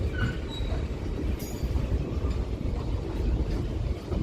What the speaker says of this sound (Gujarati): ગાંધીધામ લોકો શેડના આ એક ડીઝલ એન્જિન છે, 4500 HP એનો પાવર છે